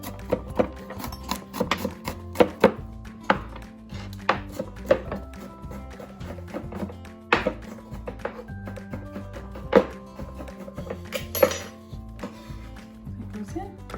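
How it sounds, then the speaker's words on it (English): A knife chops garlic cloves on a board, making a run of irregular, sharp, close knocks of varying strength, with quiet kitchen clatter between strokes. "I'm also going to add about 3 cloves of garlic. I'm just going to give that a quick chop"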